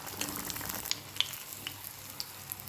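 Stuffed paneer bajji, filled with chili, salt and asafoetida, frying in hot oil: a steady soft sizzle with small pops and crackles close by, no voices.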